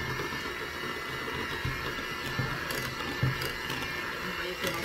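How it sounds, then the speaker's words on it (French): A mixer blends gluten-free protein bread batter with a steady, fairly quiet whirring and churning that runs unbroken from start to finish. "Vous voyez comment ça se mixe."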